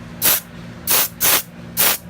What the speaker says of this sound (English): I'll spray these knobs a little bit